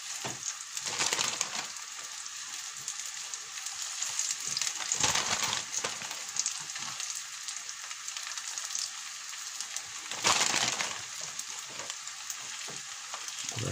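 Chicken nuggets frying in a pan, a steady close sizzle running throughout with a few louder crackling bursts, no voices.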